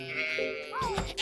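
A goat bleats in Stardew Valley, one drawn-out wavering call followed by a shorter rising cry, loud and close over light background music.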